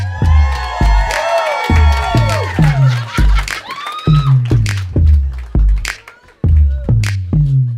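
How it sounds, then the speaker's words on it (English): Cheering and whooping from an audience welcoming a comedian on stage, loud shouts over thumping music beats, with high excited voices rising and falling throughout. "Everybody, huge round of applause for Jubal Flagg, everyone."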